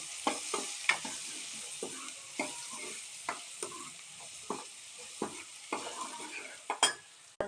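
Small onions sauté with turmeric and salt in a pan for a spicy gravy, a soft, steady sizzle punctuated by regular scraping strokes of a spoon, close and fairly quiet.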